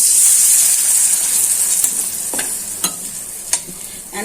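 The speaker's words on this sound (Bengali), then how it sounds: "মশলাটা যাতে পুড়ে না যায় হালকা একটু জল দিয়ে দিচ্ছি" Water hits frying onion and spices in a hot pan, raising a loud, steady sizzle and hiss that slowly fades, with a few sharp clinks of a spoon against the pan.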